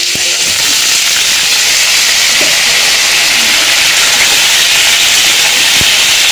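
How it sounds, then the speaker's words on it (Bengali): Drumsticks and potatoes sizzle steadily while frying in a pan with tomato, a loud, continuous hiss with faint clinks now and then. "এখন সজনা আর আলু ভালো করে ভেজে নেব।"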